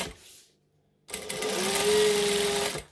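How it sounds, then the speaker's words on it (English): A sewing machine top stitching fabric runs in one steady, loud, close burst of about a second and a half after a short pause, its motor whirring evenly before stopping. "And then I'm going to stitch, I'm going to top stitch the bottom and baste it closed."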